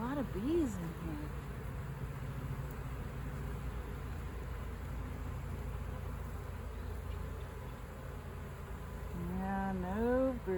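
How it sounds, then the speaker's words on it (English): Honeybees buzzing inside a hive box, a steady close hum throughout, with a person speaking briefly at the start and again near the end. "There's a lot of bees in here."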